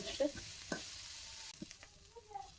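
Onions frying in a pan are stirred in a few quick scraping strokes over a soft, low sizzle, quiet and brief, with no voices.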